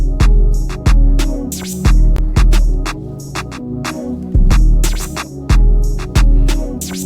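A punchy jerk and hood trap drum pattern with booming kicks, snappy hits and busy hi-hats repeating in a steady loop, loud and without talk.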